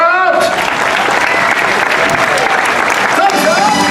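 An audience at a Universal Studios Hollywood special effects stunt show gives sustained, loud applause with dense clapping and some crowd noise. It keeps up steadily for several seconds while an announcer speaks over it.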